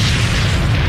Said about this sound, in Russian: Он с огромной силой врезался в Землю, и в результате чудовищного взрыва в атмосферу поднялись миллионы кубических метров образовавшейся пыли.